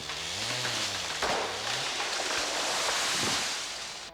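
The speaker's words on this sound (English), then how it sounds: "The buzz of a chainsaw cuts the frosty air of a Shannon County dawn." A chainsaw saws timber for a hardwood flooring mill on a frosty Shannon County dawn: a loud, steady, rasping buzz that runs without a break, with a low engine drone underneath.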